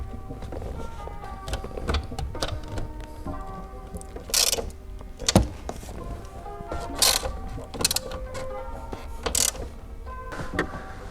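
Screws being tightened on a custom LED gauge cluster for a Honda S2000, a run of close ratcheting clicks and mechanical ticks with a few sharper snaps, over a low steady hum.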